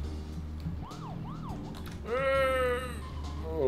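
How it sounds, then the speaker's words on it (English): Car siren in the video game Deadly Premonition: a wailing electronic siren cycles quickly at first, then holds a loud, steady wail that swells toward the end over engine rumble, with no talking. "I like the siren just makes us go like 10 miles per hour faster."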